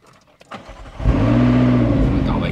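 McLaren MP4-12C supercar starting up: a brief crank at about one second, then the engine catches and settles into a loud, steady idle rumble that runs through to the end.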